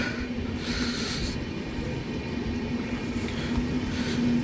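Chauri Chaura Express, an Indian Railways train, rolling past a station platform in fog at reduced speed: a steady rumble of wagons and wheels with a faint metallic squeal, continuous and fairly close, no talking.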